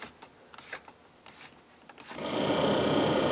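A Range Rover Classic's heater blower, which runs slower than it should, starts up after some faint clicks and settles into a steady, loud whooshing hum of rushing air.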